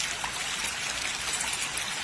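Water flowing in the Chitti Vein rivulet, a steady close trickling and babbling that runs evenly throughout without pause or speech.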